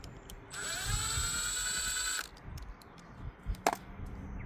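A power driver whines steadily for about two seconds while backing screws out of a garden hose end clamp, followed by a few soft handling clicks and knocks.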